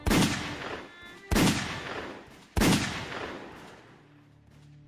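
Three loud, sharp gunshots in a row, roughly a second apart, each followed by a long rolling echo that fades out.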